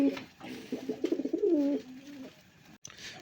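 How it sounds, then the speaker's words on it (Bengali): A pair of Indian Bombay pigeons coo close by, a run of soft throaty rolling calls that swell and fall over about two seconds before fading, with a faint click near the end. "বন্ধুরা এখানে একজোড়া ইন্ডিয়ান বোম্বাই কবুতর আছে"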